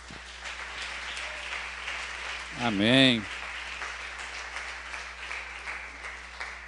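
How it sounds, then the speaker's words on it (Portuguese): A church congregation claps together in a steady, sustained round of applause, and one voice calls out briefly partway through. "A salva de palmas para Jesus."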